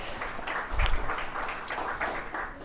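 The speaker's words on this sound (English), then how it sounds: "Round of applause for Jamie," Conference audience applause for Jamie at a fintech developer conference, a brief patch of scattered clapping from a modest crowd, steady and fairly close.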